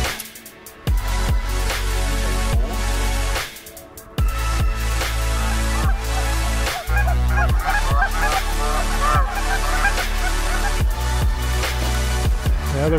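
A flock of geese flies in during a 2018 goose hunt, honking loudly and almost nonstop in layered overlapping calls, with two brief lulls, close and dominant throughout.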